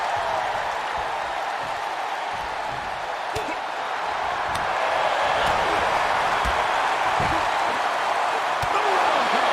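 A wrestling arena crowd roars continuously and loudly at a WWE event, a dense wash of cheering that swells toward the end, punctuated by occasional sharp impact thuds from the ring.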